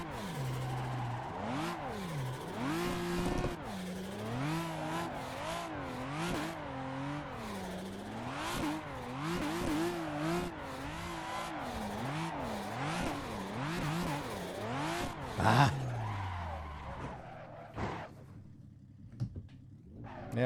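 A BMW E30 drifting in Assetto Corsa revs in repeated rising and falling sweeps as the throttle is worked through slides, with a brief sharp burst midway before the engine fades to quiet.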